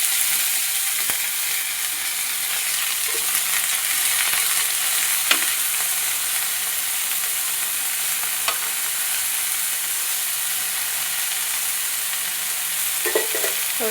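Spinach sabzi with hing fries in a pan, a steady loud sizzle lasting throughout, with occasional faint clicks of a stirring spoon and no talking.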